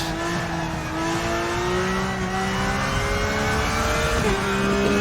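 A race car engine screams at high revs on the Nürburgring, a sustained loud whine that climbs steadily in pitch, then briefly drops with a gear change before rising again.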